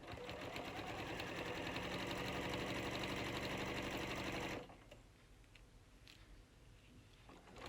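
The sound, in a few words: sewing machine stitching a seam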